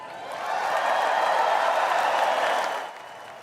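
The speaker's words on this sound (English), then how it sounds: "the announcement was met with huge cheers from the Republican crowd" A Republican National Convention crowd erupts in huge cheers and applause, a dense roar of clapping and voices swelling in after a moment, holding steady and then easing off near the end.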